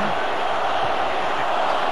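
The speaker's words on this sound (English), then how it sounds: "And the crowd is chanting" Steady roar of a large cricket stadium crowd at an India versus Australia T20 international, a continuous broad wash of massed voices with no clear individual calls.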